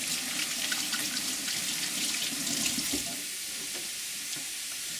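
A tap runs while hands are washed in a home kitchen during burger cooking, a steady hiss of water with splashing for about three seconds, then it stops and only quiet room noise remains.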